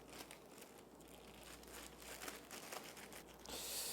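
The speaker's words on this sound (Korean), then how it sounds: "먼저 비닐장갑 하나 끼고" A thin plastic kitchen glove crinkles faintly as it is pulled on before handling raw pork for a pork gochujang stew, giving a soft, continuous rustle that grows slightly louder at the end.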